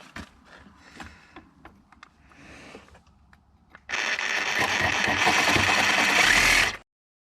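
Reciprocating saw cutting through a mashed hinge pin on a Chevy Tahoe door, preceded by light clanks and handling noise, then a loud, buzzing saw burst of about three seconds that ends abruptly.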